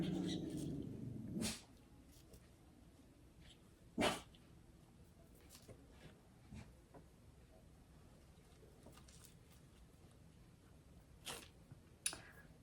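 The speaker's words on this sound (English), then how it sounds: "You can hear dogs barking every once in a while." Dogs bark in a busy house, a few faint, distant single barks at scattered moments in an otherwise quiet room.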